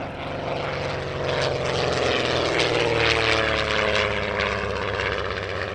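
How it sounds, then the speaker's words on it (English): A vintage Miles Hawk Speed 6 racing monoplane flies a solo display at the Shuttleworth airshow, its piston engine and propeller droning loudly and steadily with a slight rise and fall in pitch as it passes, with no talk. "This is the racing version of the Miles Hawk, a two-seat touring aeroplane produced by Miles."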